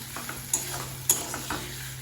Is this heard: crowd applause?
no